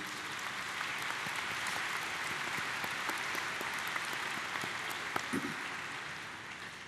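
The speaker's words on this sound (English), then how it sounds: "let's give them a round of applause as well, an appreciation for what they have done and will do for you" Audience at a 2015 high school commencement applauds the graduates' parents, a dense, steady wash of clapping from a large crowd that holds evenly throughout.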